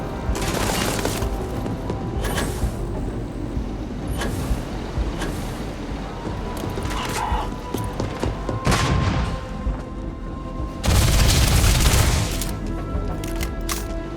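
Heavy gunfire during a space battle in the video game Starfield, with repeated loud booming blasts and rapid bursts rolling on and off, swelling strongly near the end.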